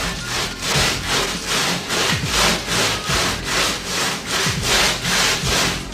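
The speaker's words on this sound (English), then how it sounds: "It'd be best for you to start off with just hand sanding" A sanding block is pushed by hand back and forth over auto body work, a rhythmic rasping scrape of about ten even strokes, close and loud with no talking.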